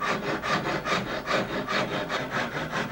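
A rasp scraping down the wooden core of an Asiatic bow, a coarse rhythmic rasping of about eight quick back-and-forth strokes, loud and close, with no speech.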